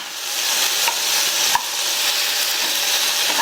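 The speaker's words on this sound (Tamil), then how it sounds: "இப்போ தக்காளி கத்திரிக்காய் ரெண்டுமே நல்லா சாஃப்டாக வதங்கி வர வரைக்கும் ஒரு 4லேருந்து" Eggplant and tomato sautéing in a pan for a pachadi side dish, with a steady close sizzle and frying hiss broken by a couple of soft stirring clicks.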